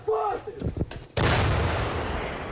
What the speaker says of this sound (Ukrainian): Так працює САУ Богдана.